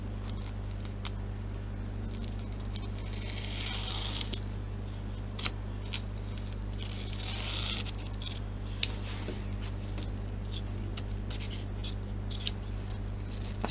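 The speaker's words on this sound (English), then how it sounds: "So I'm just going to use my applique scissors and quickly cut this out." Applique scissors cut stabilizer away from an embroidery hoop, giving scattered crisp snips and soft rustling swishes over a constant low electrical hum, close and fairly quiet, with no talking.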